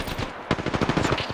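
Rapid automatic gunfire from an Apex Legends match, a tight burst of loud, closely spaced shots rattling for about a second.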